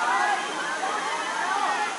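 A waterfall at Chet Sao Noi in the dry summer season, a continuous rushing hiss of falling water heard close by, while someone speaks over it.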